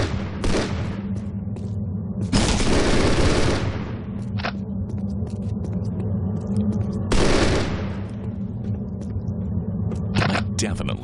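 Grenade explosions and bursts of gunfire in Postal 2 arrive as repeated loud blasts with sharp shots between them, spread across the stretch over a low steady game hum.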